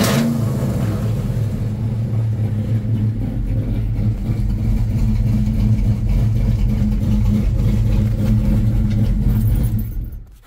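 Coyote V8 engine swapped into a 1989 Ford Foxbody convertible, a loud, steady deep rumble held at a small rev for about ten seconds before cutting off abruptly at the end.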